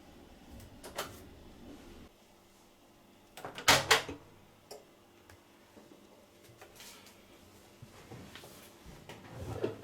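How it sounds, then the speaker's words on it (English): Washing machine door unlocking on an ISE Asko W1606 front loader: a short sharp mechanical click-clunk burst near the middle, surrounded by faint small handling taps and quiet room noise. "Unlock the door."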